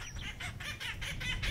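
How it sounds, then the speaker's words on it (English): Acorn woodpeckers cackle in a recovering burned oak woodland of the Ohlone Wilderness, a run of about seven rhythmic, raucous bursts repeating quickly at moderate distance over low background rumble. "Acorn woodpeckers were among the most abundant bird species and definitely produced the noisiest cackles"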